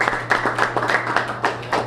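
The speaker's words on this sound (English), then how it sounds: "let's give RJ's Bar and Grill a round of applause for hosting us today" A small group claps in a short, uneven round of applause at a Golden Lion football press conference held in a bar and grill, the individual claps distinct and close.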